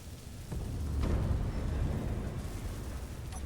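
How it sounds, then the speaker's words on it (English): A deep, rumbling explosion in the video game Space Engineers swells up within the first second and rolls on as a broad, low roar that slowly fades over a few seconds, with no talking. "did we have an explosion with the..."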